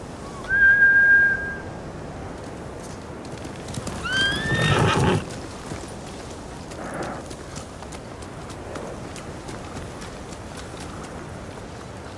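Samurai horses whinny loudly twice in Ghost of Tsushima, high neighs rising and falling, with hoofbeats clattering through the second call before fading into a quieter ambient background.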